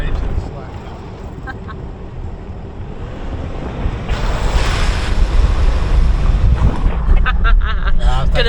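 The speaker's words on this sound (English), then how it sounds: "We've got our first water crossing, everyone. It's a really, really big one." A vehicle ploughs through a deep creek crossing on a rough outback track, with water rushing and surging loudly against it and wind buffeting the microphone, and the roar builds midway.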